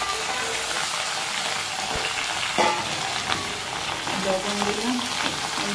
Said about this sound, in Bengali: তেলটা গরম হয়ে এসছে, দিয়ে দিচ্ছি ভিন্ডিগুলো, কেটে রাখা ভিন্ডিগুলো